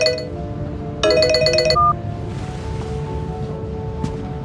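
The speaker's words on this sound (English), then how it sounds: "I'm sorry, I have an urgent phone call." A phone ringtone rings in the Memento Mori video game: a bright electronic tone sounds once for under a second, close and clear, over a quiet ambient game background.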